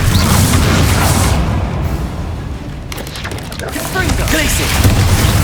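A disarming spell fired in the fantasy game Hogwarts Legacy sends out loud, booming magical bursts and crackling impacts. They come in heavy waves over several seconds with a brief lull midway, close and forceful.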